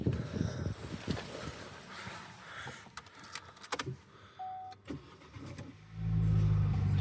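A Vauxhall Astra GTC's door clunks and a few clicks sound, then the engine cranks and catches, settling into a steady, loud idle; the engine warning light is on.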